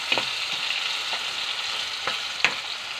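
Onion and tomato sizzle in a hot pan, a steady frying hiss broken by a few brief stirring scrapes, close and with no voices.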